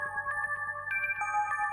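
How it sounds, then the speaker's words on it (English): A generic stock phone ringtone in a horror video game rings with steady electronic tones, repeating in a short pattern, close and clear with no talk over it. "The ringtone feels ominous. Super generic stock ringtone."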